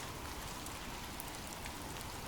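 Rain falls steadily in a dense, even hiss, soft and constant with no pauses and no voices.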